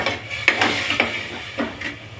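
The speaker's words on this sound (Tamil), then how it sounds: "நல்லா வதங்கட்டும்." Tomato paste sautéing in a pan for a spinach biryani, a steady hissing sizzle with a few isolated spatula strokes, close and fairly loud, with no one talking.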